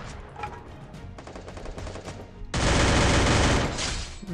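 Bursts of gunfire from behind the player in the mobile battle royale game Free Fire, a fusillade of rapid automatic shots that grows sharply louder and denser midway, loud and close, with no talking.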